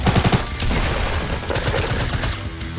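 Rapid burst of crossbow-like shots from a triple-shot crossbow in Fortnite, loud and dense with sharp repeated cracks over game noise for about three seconds.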